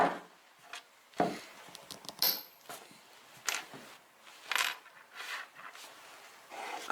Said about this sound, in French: Commencez par découper votre clou en deux morceaux.